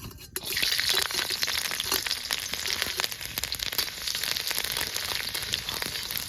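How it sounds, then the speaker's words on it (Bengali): Chopped garlic hits hot mustard oil for a kalmi greens tempering, bursting into a loud, steady sizzle that carries on without pause, close by. "তেল গরম হয়ে গেছে কলমি শাকের জন্য ফোড়ন দেবো আমি রসুন"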